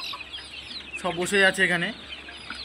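Month-old chickens cluck in a short close burst of several calls, with a person speaking over them and faint background noise.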